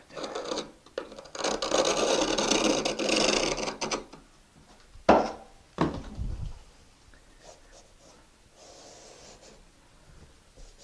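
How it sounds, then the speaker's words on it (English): Material is being scraped out of a crack between shower wall tiles, with several bursts of rough rasping scrapes, a couple of sharp knocks, then quieter scratching. "Scrape some more out of that crack right there."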